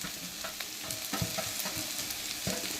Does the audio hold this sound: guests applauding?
no